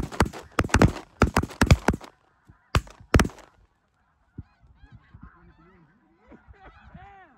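Loud, rapid honking from a large flock of snow geese dropping in during a hunt fills the first few seconds, then fades to scattered softer calls and low noises.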